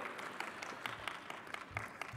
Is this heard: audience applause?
yes